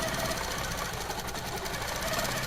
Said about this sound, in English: I could stitch down, stitch back